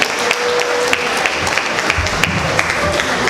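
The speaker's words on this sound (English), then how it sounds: "Let's give a warm round of applause." A keynote audience at a Google I/O Extended 2018 event in Dumaguete claps warmly, dense sustained applause filling the room at close range with a few sharper individual claps standing out.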